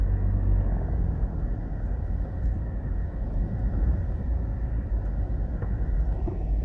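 A car rolls along a neighborhood road in Duhaney Park, Jamaica, a steady close low engine and road rumble throughout with no talking.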